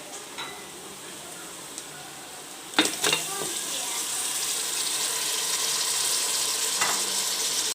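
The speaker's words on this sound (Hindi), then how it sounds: "लहसुन अभी थोड़ा सा कुक हुआ है तो मैं इसमें डाल रही हूँ गरम मसाला सारा" Garlic and garam masala frying in a pan, a soft sizzle that jumps with a few clatters of stirring about a third of the way in, then settles into a steady, louder frying hiss.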